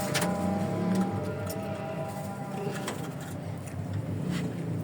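Pigeons cooing at a home pigeon loft in a low, soft warble, a few calls near the start over a steady background hum with faint distant traffic and scattered knocks.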